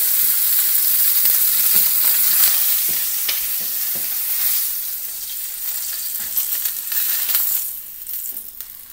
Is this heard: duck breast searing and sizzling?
yes